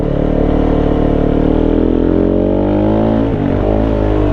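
A Kove 450 motorcycle fitted with a Dominator exhaust and off-road airbox accelerates with a loud, close engine note that rises steadily in pitch, dips briefly as if shifting, then climbs again.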